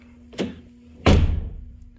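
On a BMW E36 with a broken latch return, the door handle gives a light click, then about half a second later the latch releases with a louder, fuller clunk that rings briefly, close up and with no voices.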